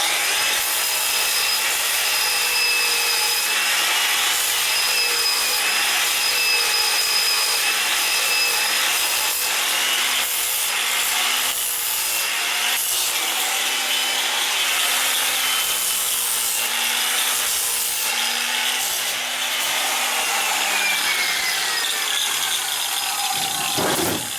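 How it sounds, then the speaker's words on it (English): An angle grinder with a phenolic disc smooths a weld on a Bassani exhaust bracket for a 2000 Harley-Davidson FXDX Dyna 107ci. It makes a loud, continuous abrasive whine and rasp that runs close up for about 24 seconds with no talking. "Grind this off."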